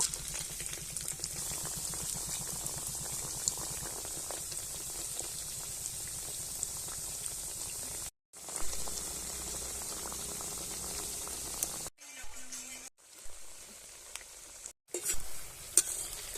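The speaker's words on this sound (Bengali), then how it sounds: "এরপরে কড়াইতে তেল গরম করে নিয়েছি ভেজে নেব" Potato pieces frying over low heat in hot oil in a wok: a steady, soft bubbling sizzle close by, broken by a few abrupt silent gaps near the end, with no voices.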